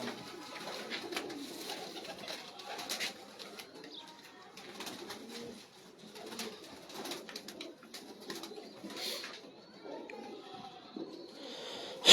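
Pigeons at a breeder's loft, a black hen among them, coo in a steady low murmur throughout, with scattered wing flaps and soft bird calls over a busy background.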